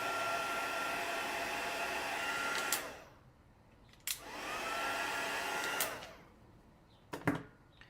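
Heat tool blowing hot air over a craft bowl, a steady close whooshing hum that cuts off and restarts twice, with short clicks at each switch and a brief final burst.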